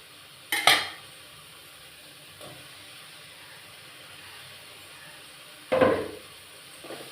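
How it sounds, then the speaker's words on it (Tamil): Chopped tomatoes and chili powder sauté in a pan for a Tamil-style gravy, with two sharp clatters of a spoon against the pan and a steady low hiss of cooking between them. "எல்லாம் நல்லா வதங்கட்டும்."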